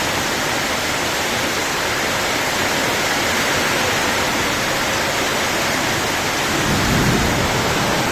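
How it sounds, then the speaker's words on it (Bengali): Heavy rain pours down in a dense, unbroken roar, loud and close, with a deeper rumble swelling near the end. "অনেক বৃষ্টি হইতেছে, অনেক।"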